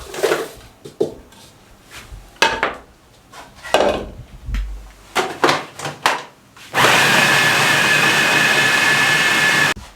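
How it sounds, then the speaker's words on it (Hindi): A kitchen food chopper grinds dried coriander and white cumin, a steady loud whirring buzz that runs unbroken for about three seconds, after several short knocks and clatters of preparation. "इन सब चीज़ों को अब हम चॉपर में डालेंगे और चॉप कर लेंगे।"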